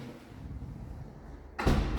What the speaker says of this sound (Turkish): Şu kapıyı da örteceğim.